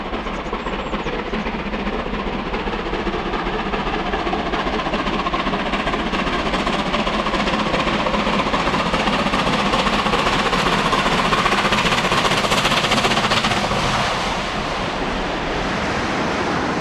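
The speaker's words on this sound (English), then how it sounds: "We could certainly hear the engine working hard, but sounding good." Southern Railway West Country class steam locomotive Taw Valley works hard on full regulator and 50 percent cut-off, a dense, loud, continuous roar of exhaust and motion heard close and unbroken throughout.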